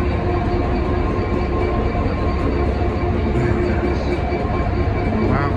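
A train rumbles steadily at a Cardiff railway station, a loud, continuous low roar, with faint squeals and clatter near the end.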